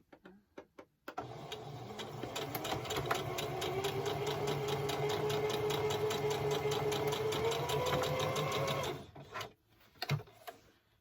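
A sewing machine stitches the lining of a doll dress in one long continuous run of rapid mechanical clatter, close and steady, preceded and followed by a few short clicks and handling taps.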